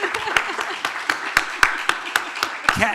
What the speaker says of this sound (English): Could you give Kat's mom a round of applause?